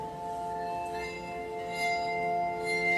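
A steady, sustained glassy ringing tone with bright overtones, like a singing glass or bell humming continuously at moderate volume.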